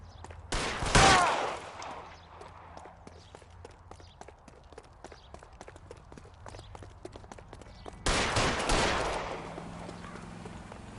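Gunfire in L.A. Noire: a loud burst of shots opens, a run of quick, sharp footstep-like clicks follows, then a second heavy burst hits near the end, with no talking.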